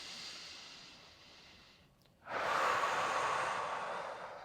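During a stretching workout a person takes a soft exhale, pauses briefly, then draws a louder, hissing breath in; the breathing is close and quiet with no talk.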